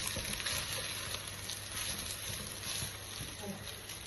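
Rice for chicken fried rice frying over a high flame in a little oil, a steady close sizzle that runs the whole time with faint stirring scrapes.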